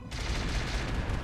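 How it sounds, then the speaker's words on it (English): Mortar fire in the Roguetech BattleTech video game, one dense burst of roaring blast noise after a sudden onset, loud and sustained for about a second, with no voices. "Ooh, mortar."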